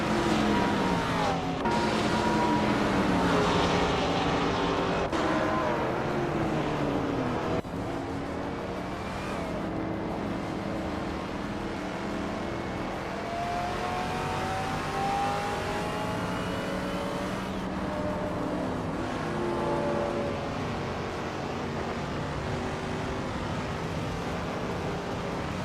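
Race cars roar continuously in a racing video game, their engines revving and shifting pitch as several cars jostle for position. The engine noise stays loud and busy throughout, with no talking over it.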